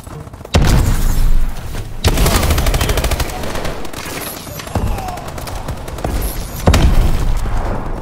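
In a Call of Duty: Advanced Warfare multiplayer match, a bombing run lands as a rapid string of loud booming blasts and crackling gunfire, dense and close, with the heaviest impacts near the start and end.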